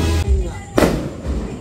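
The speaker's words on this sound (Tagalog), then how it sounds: "May fireworks po mga chula." New Year fireworks explode nearby in two sharp bursts over a rumbling background, each followed by a crackling decay.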